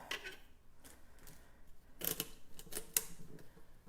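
A knife cutting pieces off celery stalks, several sharp, crisp chops and snaps spaced irregularly against a quiet background, a few louder than the rest.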